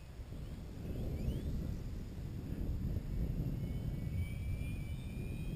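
An Enigma F5B model airplane makes a pass outdoors. A steady, fairly loud rushing roar fills the clip, with a faint thin whine sweeping above it and some wind buffeting the microphone. No one speaks.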